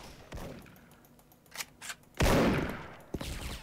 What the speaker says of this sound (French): Pourquoi j'ai tiré dans le mur?